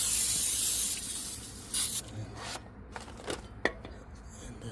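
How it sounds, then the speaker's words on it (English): Brake cleaner hisses in a strong, close spray over a new rear brake rotor on a Toyota Sienna, lasting about two seconds, then gives way to a few short, fainter spurts and light handling clicks. "use the brake cleaner. Just screw it up, just spray it around."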